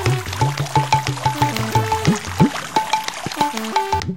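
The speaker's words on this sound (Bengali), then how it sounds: "আহা ভোদা, তুই বড় ক্লান্ত, এই নে একটু জল খা।" Cartoon water splashes and pours in a series of bubbly glugs and drips, rhythmic and close, with stylized sliding tones in a Bengali comedy animation.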